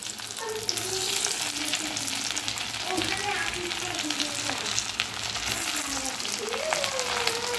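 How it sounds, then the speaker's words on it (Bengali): Potato pieces frying in ghee with a little white oil, giving a continuous close crackling sizzle with a voice speaking faintly beneath it throughout. "এর মধ্যে ঘি দিয়েছি, ঘি দিয়ে ভাজছি, সামান্য একটু সাদা তেল দিয়েছি"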